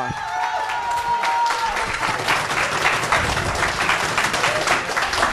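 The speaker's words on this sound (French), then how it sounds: "merci d'applaudir Eddie Parker" Audience at a live stage show applauding a performer, a full, lively burst of clapping with some crowd noise and a brief sustained tone early on, continuing steadily to the end.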